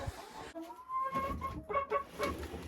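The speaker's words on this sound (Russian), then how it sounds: "Видите, ее сейчас гоняют куры." Hens in a backyard coop cluck and squawk in short bursts, close by and fairly soft, as the flock chases a newly arrived hen, with no voices.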